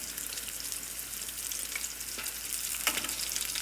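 Patties frying in avocado oil in a pan give a steady, soft sizzle with faint crackles and a couple of light scrapes from turning, with no talking.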